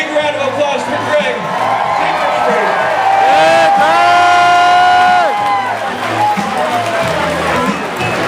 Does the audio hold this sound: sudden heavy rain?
no